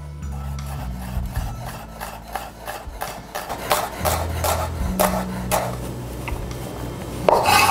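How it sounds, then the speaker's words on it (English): Knife slicing shallots into thin slices on a cutting board, a steady run of short rasping cuts with soft board taps, close and unaccompanied by talk. "Now we're going to cut the shallots, cut them into thin slices."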